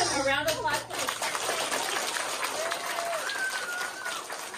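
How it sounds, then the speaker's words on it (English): Studio audience applause in a New York news studio, a steady wash of clapping with faint voices and a brief whistle-like tone over it. "So let's give him a round of applause."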